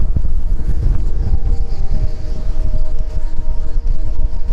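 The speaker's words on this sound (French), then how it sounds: "il y a beaucoup de vent" Strong wind buffets loudly and continuously through a corridor, a heavy low roar with gusty rumbling throughout.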